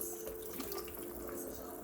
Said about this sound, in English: Let me go ahead and pour the rest of this broth in